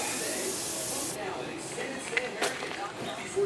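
A steady hiss of an aerosol spray can on the rotor drum of a Toyota Corolla, continuous at first then easing, with faint clicks and rustles near the end.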